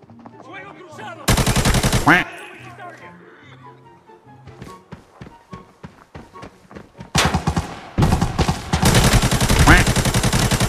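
Automatic gunfire crackles in the shooter video game Arena Breakout, loud close bursts of rapid shots separated by quieter stretches, with excited voices talking over parts of it.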